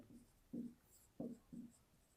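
A pen or pencil writes math notes on paper during a mensuration lesson. It makes a few short, faint strokes close by, with no voice.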